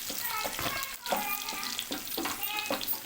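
Onions frying in a pan with turmeric added, a steady loud sizzle with spoon scrapes and stirring strokes throughout, close up and without voices.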